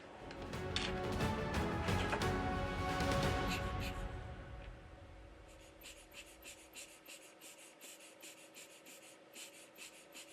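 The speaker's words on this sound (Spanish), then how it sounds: "Para limpiar el flux sobrante utilizamos un trozo de algodón y limpia contactos o alcohol" Cotton soaked in isopropyl alcohol is rubbed over a phone circuit board to clear leftover flux, giving close, scratchy scrubbing strokes that soften and give way to faint rhythmic taps.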